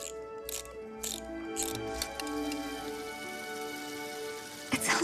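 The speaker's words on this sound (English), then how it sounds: "It sounds like rain on a tin roof." A wound-up mechanism clicks and patters steadily, like light rain drumming on a tin roof, with a faint tonal hum beneath.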